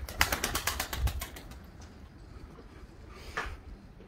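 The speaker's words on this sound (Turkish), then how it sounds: "Yani kuşlarımızın uçması, uçmak istemesi gerçekten güzel bir şey." Pigeons taking flight: a quick series of rhythmic wing claps and flutters in the first second and a half, then a quieter outdoor bed with one more soft flap near the end, fairly faint.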